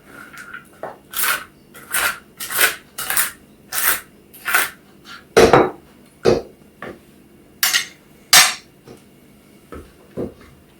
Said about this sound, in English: And just give these a bit of a chop up. Don't want to be biting into big walnuts.